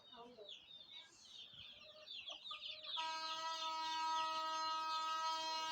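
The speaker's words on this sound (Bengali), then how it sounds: "মুরগি আসছে" Village chickens cluck and chirp busily near the listener for several seconds. A loud, steady, sustained tonal drone then comes in and stays over them to the end.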